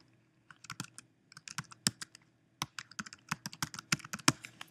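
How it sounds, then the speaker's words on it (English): A username being typed on a Mac computer keyboard: close, crisp key clicks in quick irregular bursts with short pauses between them, and no voice over them. "So I'll type in administrator"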